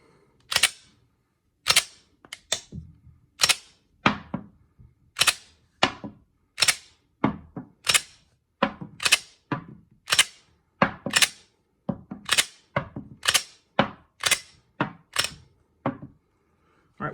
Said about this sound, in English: Let me see how that first round chambers,